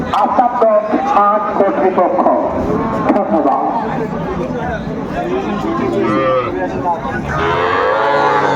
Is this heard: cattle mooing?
yes